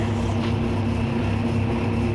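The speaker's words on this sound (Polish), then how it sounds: "Także tak zapolił czterocylindrowy lipcherowski silnik na mrozie." A four-cylinder Liebherr engine on an LTM 1100/4 crane superstructure idles after a cold start in -12 degree frost, a steady low droning rumble running close and even throughout with no talk.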